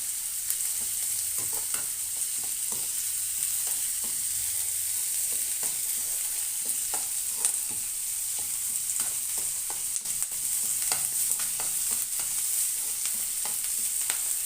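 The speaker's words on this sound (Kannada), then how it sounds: "ಅದನ್ನು ಸ್ವಲ್ಪ ಒಗ್ಗರಣೆಯಲ್ಲೇ ಫ್ರೈ ಮಾಡ್ಕೋಬೇಕು." Bitter gourd frying in a spiced oil tempering, a steady hiss of sizzling throughout with frequent clicks and scrapes of a spoon stirring in the pan.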